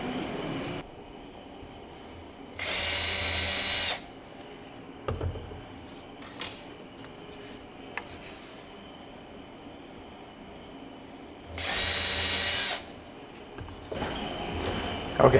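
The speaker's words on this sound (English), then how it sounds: "I'll drill through that, through the back side, and then I'll drill through the front" Two bursts of a power drill whirring, each about a second long, separated by quiet with scattered clicks and handling noises.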